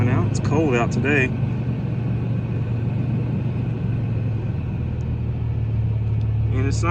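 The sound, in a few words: 2021 Toyota 4Runner TRD Pro exhaust idling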